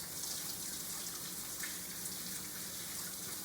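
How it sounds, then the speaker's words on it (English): Tap water running steadily over soapy hands as they are rinsed at a sink, a continuous broad splashing hiss throughout with no voices. "stick them back under the water. Wash all that soap off."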